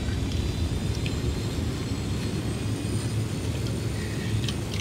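A helicopter in the video game Ghost Recon Wildlands gives off a loud, continuous rotor and engine roar that holds steady throughout.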